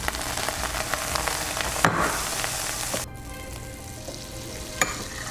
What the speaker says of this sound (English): Throw in a little olive oil and some butter.